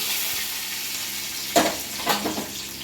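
Mustard seed tempering poured over Andhra-style kara chutney crackles into a sharp sizzle, with two quick bursts that fade into a steady, close hiss.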